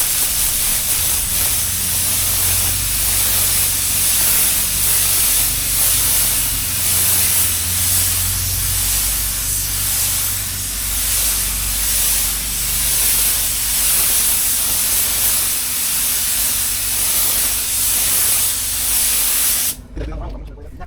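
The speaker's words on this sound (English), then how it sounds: "We are spraying the second coat now." A paint spray gun hisses in long, loud, continuous bursts while laying a second coat of paint on a car body during a full body repair, ending abruptly near the close.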